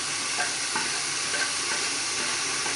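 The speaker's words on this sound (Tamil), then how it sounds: "இந்த மாதிரி நல்லா வதக்கிக்கோங்க" Dry fish (nei meen karuvadu) thokku sizzles in a pan while being sautéed and stirred, a steady frying hiss with faint scraping stir strokes.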